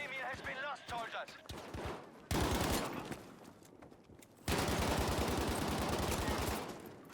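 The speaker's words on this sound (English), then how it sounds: "there was a few people down below me who I riddled full of bullets" Rapid machine-gun bursts rattle in close, loud clusters during a Battlefield V match on the Rotterdam map, separated by brief pauses, with a voice talking over some of the fire.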